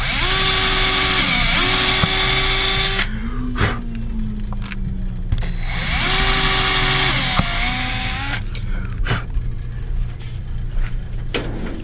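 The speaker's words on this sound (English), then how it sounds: "And we'll drill our holes." A power drill bores holes while a Glaser G Bender is fitted to a Telecaster guitar. Two long runs of a loud, close motor whine rise and fall in pitch, with short bumps and clicks between them and no talk.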